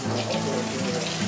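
Hot water poured for wheat-free bread dough, a steady close splashing stream running continuously from start to finish without pause.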